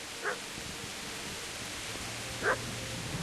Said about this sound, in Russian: Кого-то мучают собаки.